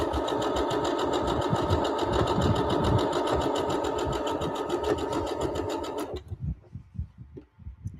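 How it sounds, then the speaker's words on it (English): A sewing machine stitches fabric in a steady, rapid, loud whir for about six seconds, then stops abruptly, leaving faint handling clicks. "You're turning your fabric as the machine sews."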